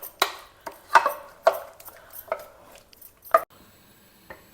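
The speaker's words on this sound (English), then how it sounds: "Give it all a good mix." A spoon mixes and mashes cooked dal and palak (spinach) inside a pressure cooker, giving a handful of sharp, close knocks and scrapes against the metal at an uneven pace, with no talking.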